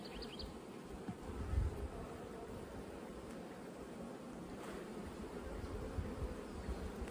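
Honeybees hum in a steady, dense drone from an opened hive full of brood frames, close and continuous throughout with slight swells, no talking.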